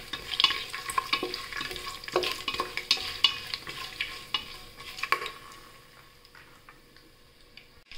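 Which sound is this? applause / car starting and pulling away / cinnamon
cinnamon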